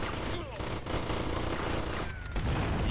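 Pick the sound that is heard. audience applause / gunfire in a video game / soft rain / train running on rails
gunfire in a video game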